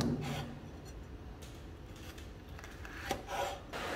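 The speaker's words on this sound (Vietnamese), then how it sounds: "Cái trái ớt chuông này mình cũng xắt mỏng nha." A knife thinly slicing bell pepper on a cutting board while preparing a tofu dish, with soft scraping strokes and a couple of sharper cuts over a constant hiss of rain in the background.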